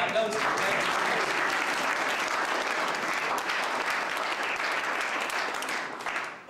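Guests at a reception in a town hall hall applaud, a loud, sustained crowd of clapping hands that holds evenly for several seconds before tapering at the end.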